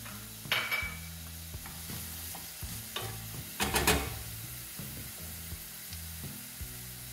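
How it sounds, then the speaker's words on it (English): Onions and jalapeno with a few seeds sizzle in a hot pan while being stirred, with repeated scraping and clattering of a utensil against the pan over a steady frying hiss, no talking. "hot, so I am going to add my onions and my jalapeno"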